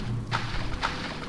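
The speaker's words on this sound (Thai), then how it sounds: "นี้เสียงเราเดินตัวคนเดียวนะคนเดียว" Two soft footstep thuds from a single character walking alone in Silent Hill 2, spaced about half a second apart over a low, dark game ambience.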